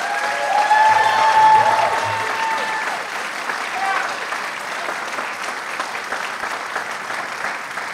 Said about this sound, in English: give them as a collective group a round of applause